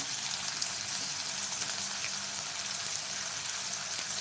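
Finely chopped onion and green chillies fry in a pan for a Maharashtrian-style methi bhaji. The sizzle is steady and crackly and runs alone, with no talk.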